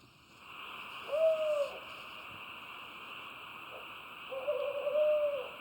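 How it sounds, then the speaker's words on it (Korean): Two low, drawn-out owl hoots spaced a few seconds apart, moderately distant, in a temple forest at night, over a steady hum of insects or background noise. "봉암사 숲의 최강자 올빼미의 울음소리다."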